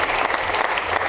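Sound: audience applause

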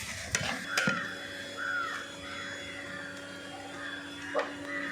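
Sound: roasting coriander powder in coconut oil

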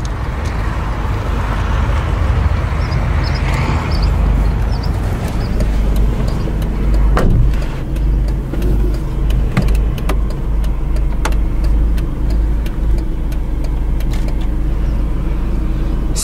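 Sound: Mercedes-Benz A180 W169 engine running

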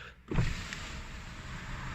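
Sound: electric power window of Ford Focus ST-Line moving

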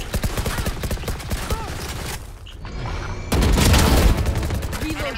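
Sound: gunfire in the video game Valorant

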